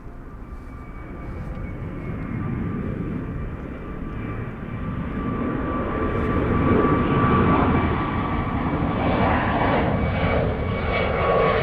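Airliner engines roar steadily at Zurich airport, a broad continuous rumble with a faint whine that swells louder midway as an aircraft moves on the field, with no voices.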